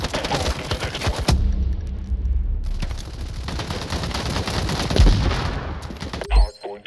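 Gunfire in the shooter Urban Heat during a Docks Hardpoint match, with bursts of rapid shots and heavier blasts rolling together over a dense battle din, one loud hit near the end.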